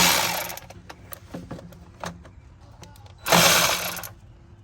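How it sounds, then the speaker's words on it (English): A ratchet works on the water pump bolts of a 2016 Ford Expedition with the 3.5 EcoBoost, giving close, loud bursts of rapid clicking with short metallic ticks and rattles in between. "Break those bolts loose and then remove the 4 bolts."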